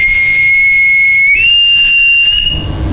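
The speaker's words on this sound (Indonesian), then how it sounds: "Itu peluit tenang kalau di angkatan laut." A single steady, piercing navy boatswain's whistle blast held for about three seconds, stepping slightly higher in pitch partway through, loud and close.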